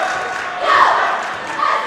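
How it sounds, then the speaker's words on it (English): A rowdy crowd of New Milford fans cheers and yells at a high school basketball game against Saddle Brook, a dense, loud roar of many voices swelling slightly midway and staying sustained. "We got a rowdy crowd there on the New Milford side."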